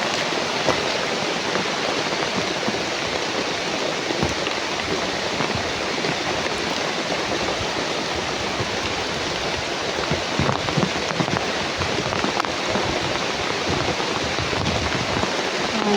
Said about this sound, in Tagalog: sobrang lakas ng ulan dito tol